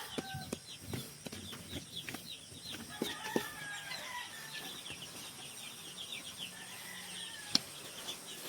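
Chickens and chicks in a coop, with soft clucks, peeps and occasional wing flaps scattered through a quiet, fairly faint background, plus one brief sharp knock.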